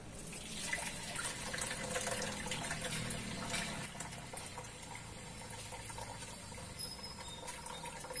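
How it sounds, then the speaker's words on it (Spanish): One litre of water pours steadily into a container, a continuous splashing, faucet-like flow that swells at first and then settles into a quieter, even stream, close by and with no talking. "Para iniciar vamos a utilizar 1 litro de agua."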